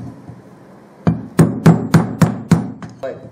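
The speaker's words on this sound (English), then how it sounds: "You're just driving the screwdriver in as a wedge. You're driving that bearing off." Sharp metallic hammer blows drive a screwdriver in as a wedge to force a bearing off a Yamaha part, six or seven strong evenly spaced strikes close by after a quiet start, with no talk.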